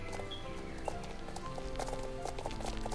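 Horse hooves clip-clop steadily in the Star Stable Online video game, a continuous trotting rhythm of light clops over dense game music and ambience, with a faint whinny-like sound.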